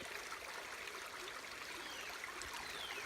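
Creek water flowing over rocks in an Ozark ginseng habitat, a faint, steady rushing hiss that holds evenly throughout with no voices.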